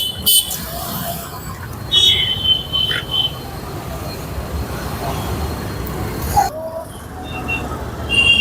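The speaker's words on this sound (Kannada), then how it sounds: "ಮೇಲ್ಗಡೆ ಟ್ರೈನ್ ಹೋಗ್ತಾ ಇದೆ" A train passes overhead at a busy Bengaluru road near the Seshadripuram signal, a rumbling rattle mixed with traffic noise, a few sharp high squeaks and a toot, while people talk nearby.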